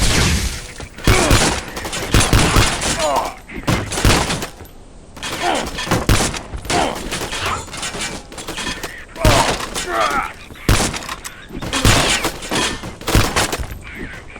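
Enemy gunfire at a shooting range in the video game Vivisector: Beast Within, with loud repeated bursts of shots and shattering impacts arriving in clusters separated by brief lulls.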